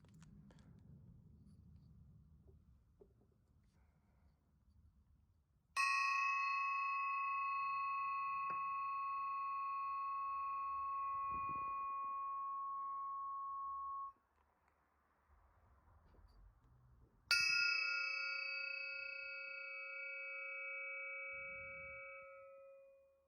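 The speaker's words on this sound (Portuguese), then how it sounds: "E dependendo da onde você toca a pirâmide, tanto aqui na base quanto aqui nas laterais, ele solta um som diferente." A glass singing pyramid is struck twice, each strike ringing out with bright, sustained tones that hang for several seconds before fading, with quiet handling noise between strikes.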